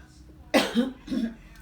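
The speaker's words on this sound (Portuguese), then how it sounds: "começo a falar muito, começo a tossir" A couple of hoarse coughs close to the mic, the first sharp and the second softer, in an otherwise quiet room; an asthmatic teacher coughing during a lecture.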